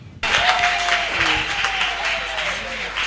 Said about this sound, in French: Nous allons recevoir nos adolescents avec des acclamations.